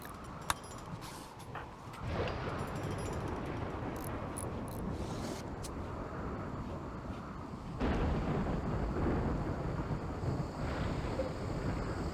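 Thunder from a lightning strike in RimWorld rolls as a heavy, broad rumble that swells after a couple of seconds and surges again later, sustained and loud throughout.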